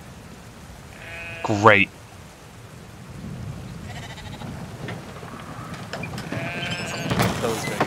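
A single loud sheep bleat stands out early in Brothers: A Tale of Two Sons, followed by quieter rumbling ambience, fainter bleats and brief talk.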